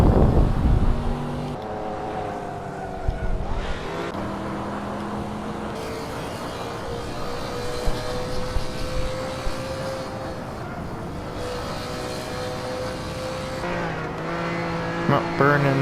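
Race cars driving in the Hot Wheels video game, with a steady engine drone and rising and falling pitches as cars pass, plus occasional bumps and squeals through a continuous game mix.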